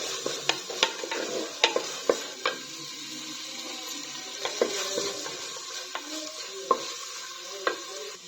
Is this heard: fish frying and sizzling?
yes